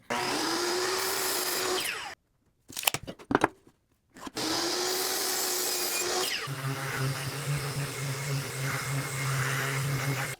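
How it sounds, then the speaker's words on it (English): Power sanding of pine boards: a steady, loud whirring drone runs for about two seconds, breaks off into a brief run of clatter and handling knocks, then resumes continuously with a deeper motor hum under it. "We got our boards all sanded up."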